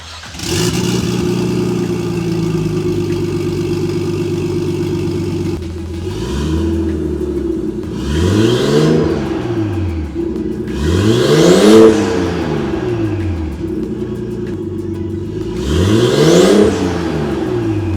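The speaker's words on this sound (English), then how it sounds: "That's what an R32 GTST sounds like with no exhaust." A loud Nissan R32 Skyline GTS-t engine with no exhaust from the turbo back idles with a raw, unmuffled rumble, then revs sharply several times, each rev climbing and falling back, close by.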